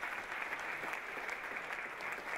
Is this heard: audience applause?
yes